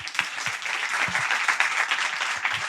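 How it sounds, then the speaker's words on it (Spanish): A studio audience applauds journalist and writer Alberto Moreno, a dense, steady wash of clapping with a few sharp nearby claps standing out through the whole stretch. "Un aplauso para Alberto."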